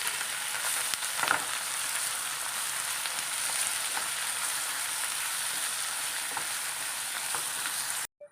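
Green chillies, about 50 grams, go into hot oil for a fish pickle and hiss in a loud, even sizzle, with a few brief stirring clinks and no talking.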